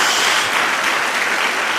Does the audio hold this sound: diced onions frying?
no